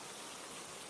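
Steady rain falling as dense, even hiss that fills the short moment with no breaks or other sounds.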